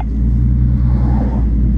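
A tuned car engine on a dyno session runs as a loud, close, steady roar with a sustained rumble for a couple of seconds, with no voices.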